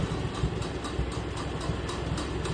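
International Harvester Farmall Super A tractor engine running at low throttle, a steady low rumbling chug with an even pulsing beat throughout, close and continuous, with no voices.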